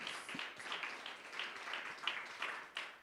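Audience applause in a hall for a panel discussion on cross-border activism, steady mid-level clapping spread across the room for about three seconds with no talk.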